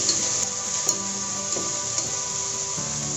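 Crushed ginger with mustard seeds frying in hot oil for a pineapple pickle, stirred through a steady close hiss of sizzling broken by a few sharp spoon scrapes and clicks against the pan, with no talking.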